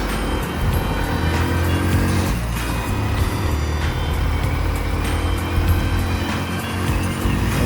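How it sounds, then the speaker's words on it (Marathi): A vehicle drives along a road in Pune, giving a continuous low engine and road rumble with a steady broadband hiss of passing air, close and even in level from start to end. "जरा गाडी पळवून बघू का थोडी"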